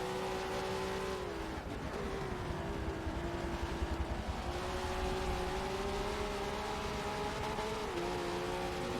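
V8 Supercars race around Road Atlanta in a video game, a continuous high engine whine that rises and falls with gear changes, steady and fairly quiet throughout.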